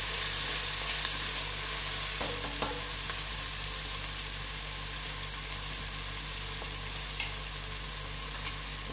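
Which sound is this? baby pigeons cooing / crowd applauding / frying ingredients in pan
frying ingredients in pan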